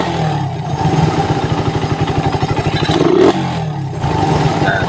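Stock-engine motorcycle fitted with a 28mm Koso carburetor, idling with a steady close-up putter that rises into a brief rev around the third second, loud and alone with some clatter.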